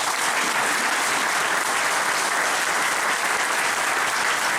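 Steady, loud applause from an audience at a municipal election list presentation in Carqueiranne, applauding the candidates; dense, continuous clapping holds evenly throughout without voices on top.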